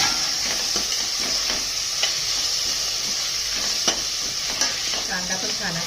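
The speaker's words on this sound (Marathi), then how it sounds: "कांदा चांगला परतून घ्यायचा। त्याच्यात आता टोमॅटो टाकून घेते चिरलेला।" Onion and chopped tomato fry and get stirred in a pan for a village-style red lentil curry, giving a steady hiss with scattered spoon scrapes and clicks, close and continuous.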